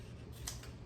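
Scissors make a single short snip through paper during a hair-themed paper craft, a quick close cut over quiet room tone.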